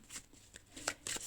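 Oracle cards being shuffled by hand during a French card reading: a brief run of soft, close papery riffles and slaps in quick, uneven bursts.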